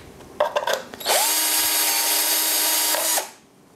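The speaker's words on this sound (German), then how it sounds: "Jetzt haben wir noch mal eine Größe gebohrt." A power drill bores a larger hole during a BMW M2 Competition differential cooler upgrade, with a few short bursts, then a loud sustained whine for about two seconds that spins down to a stop.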